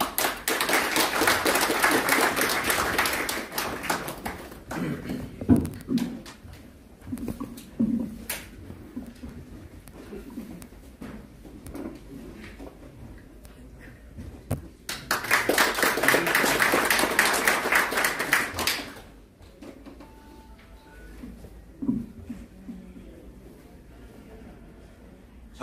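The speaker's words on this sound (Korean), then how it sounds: "큰 박수 부탁드립니다." Audience applause at a founding ceremony in a Seoul press center hall, two bursts of dense clapping with quieter taps and thumps between them.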